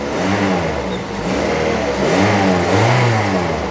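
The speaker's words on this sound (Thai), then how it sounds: "เดี๋ยวผมเร่งให้ดูนิดหนึ่งครับ เดี๋ยวเร่งก่อนนะครับ" A 2008 Toyota Vios sedan engine is revved up close, rising and falling in two or three loud, throaty swells over a steady idle.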